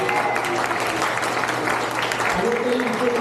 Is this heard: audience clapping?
yes